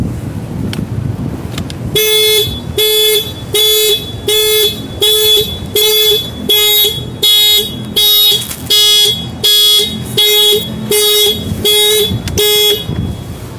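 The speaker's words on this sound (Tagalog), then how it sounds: "nagahazard pa siya tapos tumutunog yung busina" A motorcycle horn alarm, wired through a kill switch with hazard lights, blares in a steady repeating pattern of loud, evenly spaced honks, about a dozen in a row, close by.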